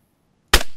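A single gunshot fires in the survival video game DayZ, a loud sudden crack out of silence with a short decaying tail.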